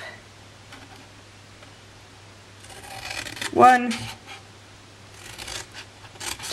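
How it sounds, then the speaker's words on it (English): Scissors snip and rasp through paper at close range, a few crisp cuts with rustling around them, while a voice speaks briefly. "bring in your scissors and we are going to cut up"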